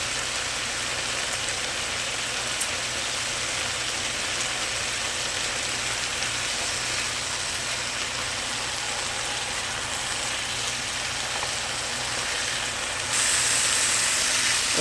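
A steak sizzling steadily in a hot pan on a stovetop, a dense, even hiss with fine crackle that holds at a constant level throughout, getting slightly louder near the end.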